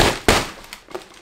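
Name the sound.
smacking a plant pot to loosen a stuck philodendron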